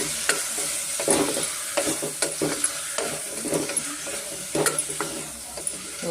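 Tomatoes frying with salt in a pan for soya pulao, a constant sizzle broken by repeated spatula strokes and clacks against the metal, close and fairly loud, without speech.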